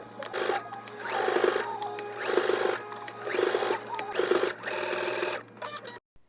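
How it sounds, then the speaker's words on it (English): Sewing machine understitching a dress facing, running in five steady bursts of stitching with short pauses between, close and fairly loud, with no talk. "you're going to bring the seam towards the facing and you're going to understitch the facing"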